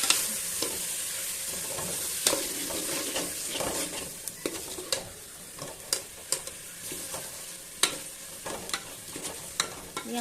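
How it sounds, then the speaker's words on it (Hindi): Fenugreek leaves (methi) frying with masala in a pan for moong dal methi, a steady close sizzle broken by repeated spoon scrapes and clinks as they are stirred. "अब हम इस मसाले के साथ इस मेथी को भी अच्छे तरीके से भूनेंगे"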